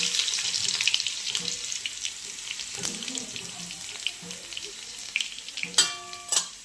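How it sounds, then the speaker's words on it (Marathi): Mustard seeds, cumin and garlic sizzle in hot oil for a Marathi cluster bean dish, a steady bright hiss with scattered crackles and a few sharp pops and clinks near the end. "तेल गरम झाले त्याच्यामध्ये आता मोहरी जिरं आणि लसूण"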